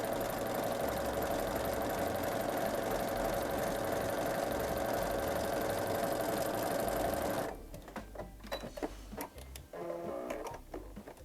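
A sewing machine runs steadily while stitching a skirt seam, a loud, continuous whirring drone for about seven seconds before it stops, followed by scattered handling clicks and rustles.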